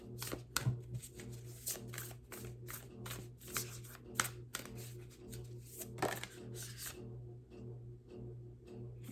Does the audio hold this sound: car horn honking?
no